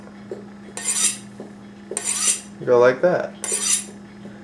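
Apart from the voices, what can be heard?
knife being sharpened on a knife sharpener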